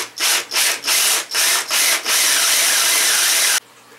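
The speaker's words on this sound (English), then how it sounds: "I need to countersink my holes." Drill bit countersinking holes in a wooden walking stick, six short rasping grinding bursts in quick rhythm followed by one longer continuous cut, loud and close, then abrupt quiet.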